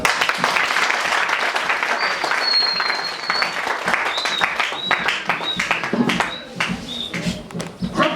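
A church congregation at a Sunday service applauds and cheers, acclaiming the Lord, with dense sustained clapping and crowd noise throughout, some voices rising over it.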